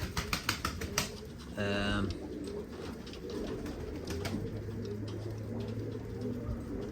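Pigeons coo in a loft, with a distinct cooing call near the start and low murmuring coos later, heard among rustling, light clatter and soft background sounds.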